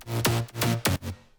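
Three heavy synth bass hits, each a distorted buzzy note with a bright attack, pulsing in a short rhythmic pattern and fading out.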